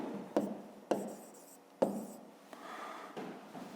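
Pen or chalk strokes set down a maths formula in several short scratchy bursts, each starting sharply and fading, close and fairly quiet, with no talking.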